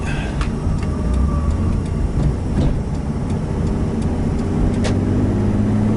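A car with a swapped naturally aspirated Subaru EG33 engine on the road, a steady loud engine drone and road rumble heard from inside the cabin, with a few faint clicks and no talking.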